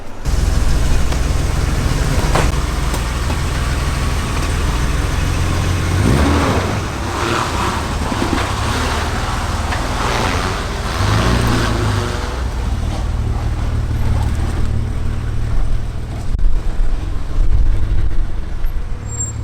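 Inside a 1986 BMW 535i E28 with 300k miles while driving, a steady loud engine and road drone that swells with a few revs, heard alone without talk.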